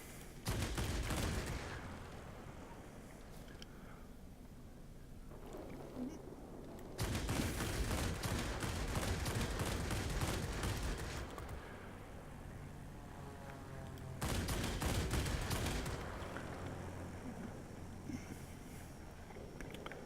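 Bursts of rapid 20 and 30 millimetre aircraft cannon fire in a warplane video game, long rattling volleys, loud and close, separated by quieter stretches of engine rumble.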